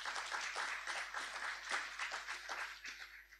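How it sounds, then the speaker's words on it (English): A graduation ceremony audience at a boys' secondary school gives a round of applause, steady scattered clapping that stays fairly distant and faint before tapering off. "Let's give Mrs. Lewis a round of applause."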